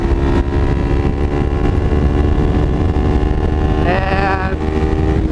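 Motorcycle engine with a new aftermarket exhaust running steadily, a loud close rumble held throughout with a brief rise in revs near the end, no voices.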